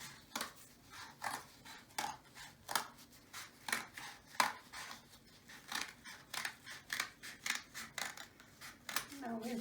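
Scissors cutting through several paper strips at once, a quick run of crisp, evenly repeated snips, close and fairly soft, with a quiet voice at times.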